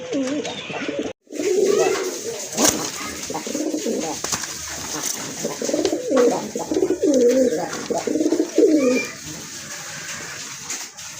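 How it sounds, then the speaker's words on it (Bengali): A pair of Kagzi pigeons coos in a repeated, throaty rhythm, heard close and fairly loud for most of the time after a brief silence near the start. "টপ ক্লাস এক জোড়া কাগজি কবুতর"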